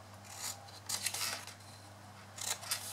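Scissors cut a section of paper away, giving three quick crisp snipping bursts close by in a quiet room, with no talking.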